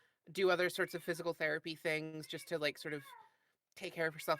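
A pet cat meowing loudly indoors, several drawn-out meows overlapping with a person talking, close by.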